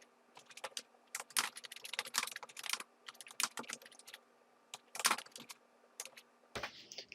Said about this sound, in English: here we can just type a little description if we want